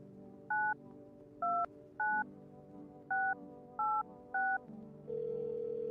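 Telephone keypad dialing tones: six short, evenly spaced beeps over quiet room noise, followed by a steady dial or ringback tone at the end.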